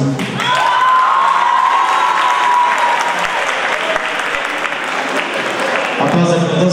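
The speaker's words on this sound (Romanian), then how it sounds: "aplauze pentru toți concurenții" A television studio audience at a Dragobete celebration in Petrila, Romania, bursts into loud applause and cheering for all contestants, a sustained roar of clapping with shouts, and a voice rising over it briefly near the start.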